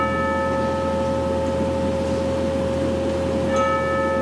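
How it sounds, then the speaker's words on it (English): The church bell at Williams Chapel, College of the Ozarks, rings in a slow toll. A sustained, humming ring carries throughout, and a fresh strike sounds near the end. "The church bell at Williams Chapel at College of the Ozarks rang out 17 times Sunday."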